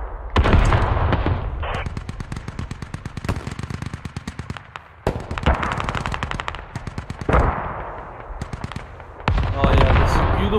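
Artillery strike in the video game Squad, a loud, close barrage of rapid, evenly spaced blasts coming in long bursts with short pauses between them.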